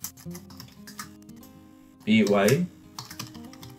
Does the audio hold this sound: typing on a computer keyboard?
yes